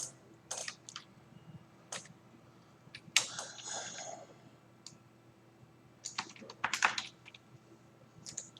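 Keys on a computer keyboard clack in irregular bursts of quick taps with short pauses between, close and fairly crisp against a quiet room hum.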